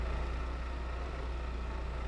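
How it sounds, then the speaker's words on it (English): A farm vehicle engine idles on a dairy farm, a steady low rumbling hum that holds even and unbroken from start to finish with no talk. "We're gonna get some vehicles started up here."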